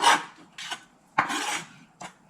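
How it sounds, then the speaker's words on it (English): A knife chopping bacon into small pieces on a board, a few short scraping cuts in separate bursts, near and clear, with no talking. "for the bacon, just cut them in some smaller pieces"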